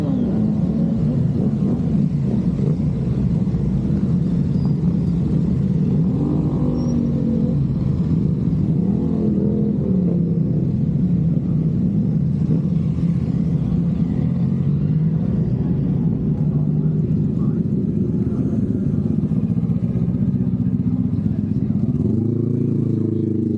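Superbikes ride slowly in off the Snetterton circuit after racing, with several engines rumbling and revving continuously up close while people talk nearby.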